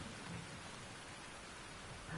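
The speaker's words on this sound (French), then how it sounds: "c'est la grosse pluie" Heavy rain pours in the video game Tchia, a dense, steady wash of falling water that holds at an even level throughout, with no voices.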